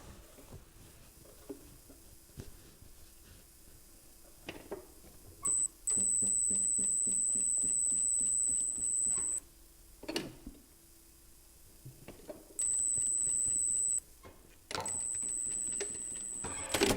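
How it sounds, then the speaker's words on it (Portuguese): Sewing machine stitching patchwork fabric close to the edge, a soft rapid mechanical patter of needle strokes running in short bursts, quiet and close, with a steady high electronic whine in some stretches and no talking. "Eu vou costurar bem rente aqui primeiro."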